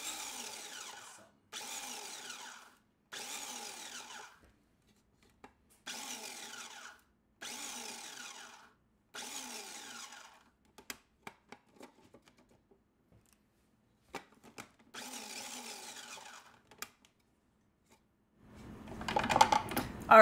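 Blender or grinder pulsing ingredients for lemon blueberry muffins, a series of loud short whirring bursts of about a second each with pauses between, then scattered clicks and a rougher burst at the end; no talking.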